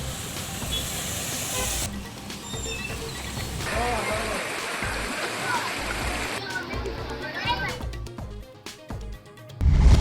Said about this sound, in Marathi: सोलापुरात मुसळधार पावसाचा कहर, रस्त्यांना नद्यांचं स्वरूप